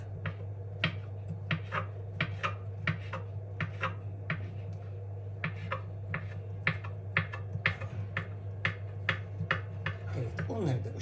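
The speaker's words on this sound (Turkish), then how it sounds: "Böyle çok minik doğruyorum onları da." Rapid, evenly paced knife taps on a cutting board, dozens of crisp chops in a steady rhythm over a low constant hum.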